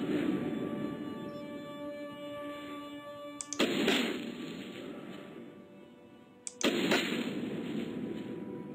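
Two sharp gunshots in the video game Stick Squad 2, fired at a wall, crack out a few seconds apart over a steady hum of game music and ambience, each with a brief ringing tail.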